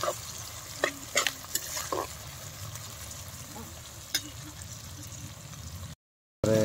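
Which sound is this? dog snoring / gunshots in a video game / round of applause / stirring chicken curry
stirring chicken curry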